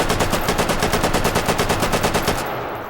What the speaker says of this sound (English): SG-44, first assault rifle ever. German made, and what the AK was inspired off of.